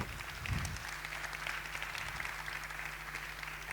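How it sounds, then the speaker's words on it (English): An audience at a public talk on city street design applauds, a steady faint wash of clapping from a crowd that continues evenly throughout without voices. "One more applause."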